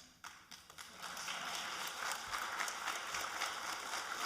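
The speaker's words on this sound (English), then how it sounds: "But the applause is for these guys here today." Faint, distant applause from the audience at a Palm Beach State Honors College medallion ceremony, starting with a few scattered claps and building into steady clapping.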